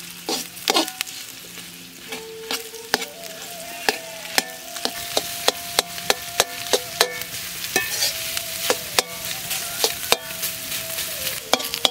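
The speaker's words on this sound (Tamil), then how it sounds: "இந்த மாதிரி கிண்டிக்கிட்டே இருக்கணும்" Ukkali puttu flour mixture stirred continuously in a hot pan, with a soft frying sizzle under frequent sharp ladle scrapes and knocks against the metal, close by and alone.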